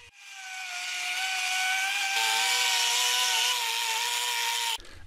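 A Parkside pneumatic die grinder runs up to a steady high-pitched whine with strong tonal harmonics, holding at full speed for several seconds before cutting off abruptly.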